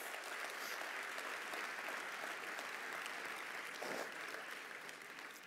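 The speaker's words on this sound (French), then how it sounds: "Je voudrais saluer, vous pouvez les applaudir" Audience applause at a political party congress closing speech, a large hall full of continuous clapping forming a dense, even wash, distant and fairly quiet.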